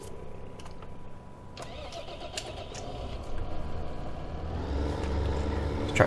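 A Case tractor engine cranks and fires up in Farming Simulator 2015, the motor rising into a steady, fairly close idle rumble that grows slightly louder toward the end, with no talking.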